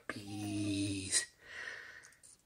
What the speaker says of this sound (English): That's a big yawn.